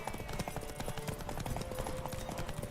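Horse hooves clip-clopping in The Witcher 3: Wild Hunt, a quick, steady trot close by over a faint musical drone.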